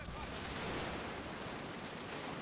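Massed musket volleys and cannon fire from a Prussian army battle in a Total War-style strategy game, a dense continuous crackle of gunfire that stays loud and unbroken throughout.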